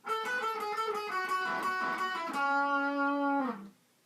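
Electric guitar plays a melodic phrase from a battle theme from Pokemon Omega Ruby and Alpha Sapphire, a run of quick picked notes closing on one long sustained note that cuts off cleanly, with no talking.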